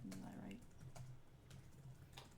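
Soft keyboard clicks tap irregularly in short runs, close by, with a quiet voice briefly audible at the start.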